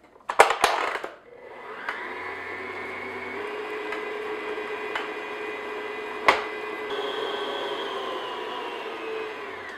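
An electric hand mixer beats egg white into cupcake batter in a bowl, a steady close whir running for several seconds after a few clunky knocks at the start.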